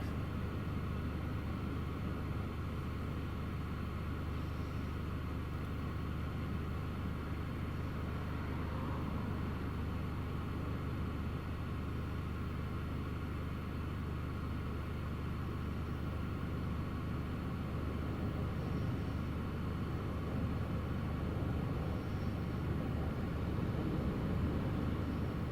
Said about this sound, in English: So KLM up and away.